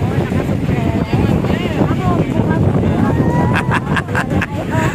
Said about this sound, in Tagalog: malakas yung hangin kasi dito